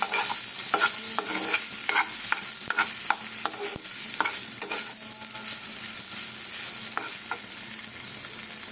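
Potatoes fry in butter in a pan, a close bright sizzle under frequent rhythmic scraping stirs of a spatula against the metal, busier at first and easing later, with no speech.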